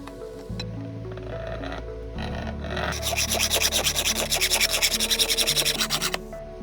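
Aluminum angle for a wooden PC case frame is cut by hand: a quieter start, then a close, loud run of rhythmic back-and-forth sawing strokes, about a dozen in a row, before it stops.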